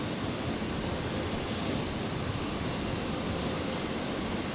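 A Singapore Airlines Airbus A350 departing from runway 01 right at Brisbane airport, a dense continuous jet roar, loud and steady with no talk.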